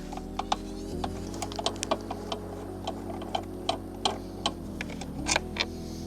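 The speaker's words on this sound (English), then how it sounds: "let's try to unscrew this bolt" A ratchet clicks in a rapid, fairly even series of sharp ticks while loosening a bolt on an Audi TT airbox, close and distinct over a steady low hum.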